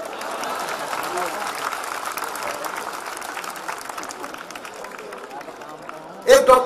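Audience applause at a Hindi hasya kavi comedy show, a steady dense wash of clapping from a crowd that holds for several seconds before a sharp louder burst near the end.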